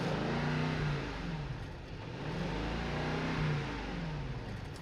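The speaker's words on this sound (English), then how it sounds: "would you like to listen to the car from the outside?" A Mercedes-Benz S600 Maybach engine revs, heard from outside the car, rising and falling in two or three broad surges with a steady low exhaust drone and no voices.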